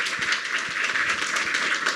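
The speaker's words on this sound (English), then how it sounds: "Can you join me in a round of applause for Dr." Audience applause at an international symposium on global justice and Africa's G20 priorities, a steady patter of many hands clapping, sustained and fairly even throughout.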